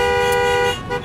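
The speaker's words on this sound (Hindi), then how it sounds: "अर्जुन तू हॉर्न बजा रहा है।" A car horn blares in one long, loud, sustained honk that drops off near the end, with a faint voice beneath it at night on a residential street.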